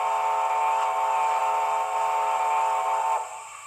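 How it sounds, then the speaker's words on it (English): An ESU model train sound decoder plays a steam locomotive whistle, a loud, sustained, chord-like tone heard alone for about three seconds before it cuts off sharply. "If you hold the function on, you obviously get a long whistle."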